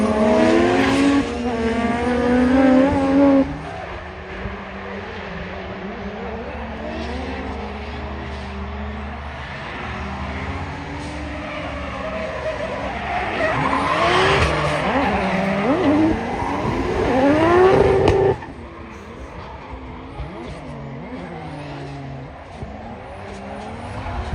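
Two drift cars, a 1,000-horsepower three-rotor Volvo and a 700-plus-horsepower 2JZ-swapped BMW E46, scream and skid at a drift event, engines wailing with rising and falling revs and tire squeal, loud and close, easing off near the end.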